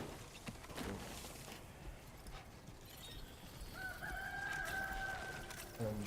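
Rooster crowing among hens and horses in the video game Death Stranding 2, a faint drawn-out crow rising late over a noisy ambient bed with soft hoof-like clops.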